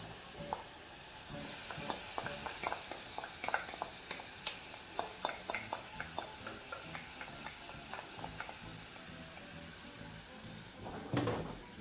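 Onions tossed into a hot pan with minced garlic for a meat pie, a soft steady sizzle under repeated light scraping and stirring clicks, ending with a louder clatter near the close.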